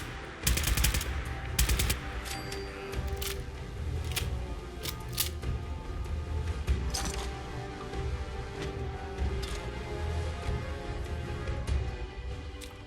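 Game gunfire in Fallout 4, sharp shots and bursts crackling at irregular intervals over a steady ambient bed of combat noise.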